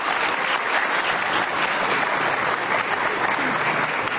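Dense, steady applause from a television studio audience welcoming guests on an Indonesian talk show, a continuous wash of clapping at even loudness with no pauses.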